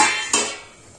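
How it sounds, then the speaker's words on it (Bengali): Metal lid lifted off a cooking pot after fifteen minutes of soaking semolina batter for uttapam, one short clinking clatter up close followed by quiet. "এবার আমি ঢাকনাটা খুলে দেখব।"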